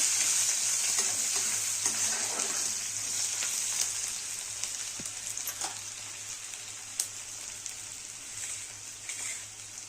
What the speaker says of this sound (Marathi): आता कांदा भाजून घ्यायचा आहे. कांदा चांगला लाल रंगावर भाजून घ्यायचा.